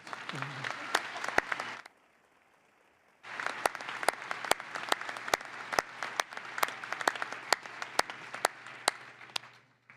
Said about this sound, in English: can we give Gary a round of applause